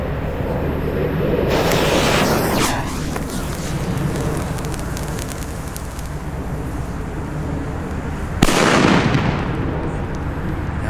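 A Cobra 2 firework goes off outdoors, with a loud rushing, crackling burst followed by a sustained roar and a second sharp blast near the end, heard close.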